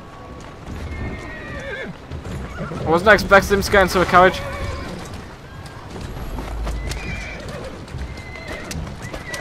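A horse in Assassin's Creed Syndicate gallops with rapid clip-clopping hooves and lets out a loud whinny partway through, while someone talks excitedly over the action.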